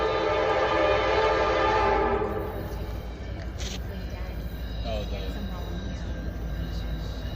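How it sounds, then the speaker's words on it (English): An arriving train sounds a long, steady horn blast, then settles into a continuous low rolling rumble as it pulls in. "Train is here."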